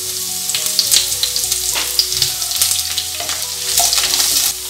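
Curry leaves crackle in hot oil with chana dal, green chilli and asafoetida for coconut sevai, a steady close sizzle broken by sharper spits and pops, with no one speaking.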